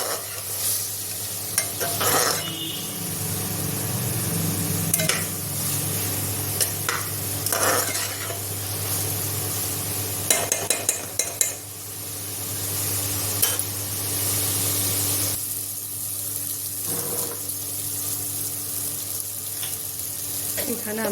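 Spice paste being stirred and sautéed in a pan, with water added bit by bit, making a steady sizzle broken by scraping stirs and a few clinks, with faint voices in the background.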